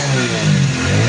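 A Hero Splendor BS6 motorcycle engine fires up and revs, a loud, close, continuous mechanical roar throughout the brief moment, with no talk.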